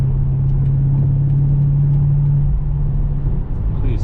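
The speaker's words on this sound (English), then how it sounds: "Rush hour traffic, not too bad." Steady road traffic and engine hum heard from inside a BMW M8 Competition during an evening rush-hour drive, a constant low drone with a sustained tone, no voices.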